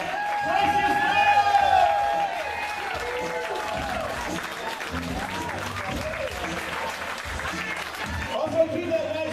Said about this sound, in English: keep that nice round of applause going for Mr. Brian T. Shirley